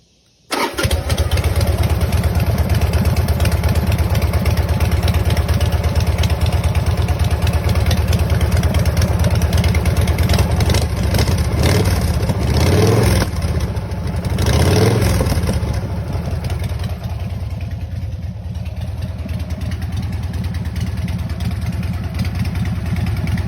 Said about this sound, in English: With its custom appearance and strong running engine, this Sportster is ready for its next owner.